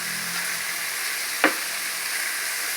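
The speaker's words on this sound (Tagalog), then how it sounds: "Ito guys, binisa ko na yung pigi and lomo." Pieces of pork leg and loin sautéing in a pan for dinuguan, giving a steady, loud sizzle and crackle throughout, with one brief stir or scrape partway through and no voices.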